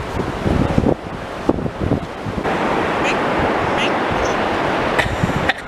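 Ocean waves wash up onto the sand at New Smyrna Beach, Florida, a steady broadband surf rush with wind buffeting the microphone and brief voices nearby.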